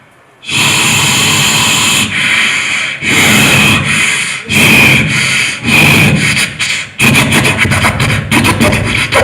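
In a mimicry performance at a state school arts festival, a voice imitates a diesel train with loud, breathy chugging bursts in a steady rhythm that speed up toward the end.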